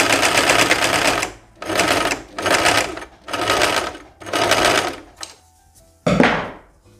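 A sewing machine stitching a chemise, running in five loud, close bursts of steady whirring stitching separated by short pauses, then a final sharp mechanical clunk.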